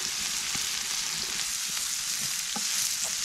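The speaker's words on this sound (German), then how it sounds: "Wie ihr sehen könnt, brutzelt das hier schon ganz gut." Onions and beans sizzle steadily in a pan over a campfire in the woods, a loud continuous frying hiss with occasional soft clicks and scrapes of stirring, with no voices.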